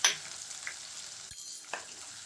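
Chopped tomato and turmeric powder go into hot oil for chicken liver masala fry, giving a quiet sizzle with a few sharp hisses and a brief utensil knock against the pan.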